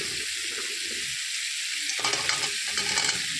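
Ground vegetable stalk paste sizzles and crackles in hot oil with fried spice masala for a rohu fish curry, a steady close fry with stirring scrapes growing busier in the second half.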